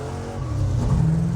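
A 1965 Pontiac GTO's engine roars steadily as it accelerates hard from a rolling start, its deep growl rising in pitch, loud and close.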